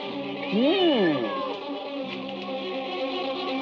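A single loud, wavering cat meow rises and falls near the start, followed by steady background noise with faint talk.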